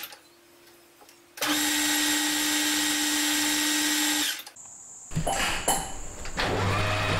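A metal lathe turns silver steel rivet stock held in a collet chuck, giving a loud, steady machine whine for several seconds that cuts out and is followed by shorter, rougher bursts of motor and cutting noise.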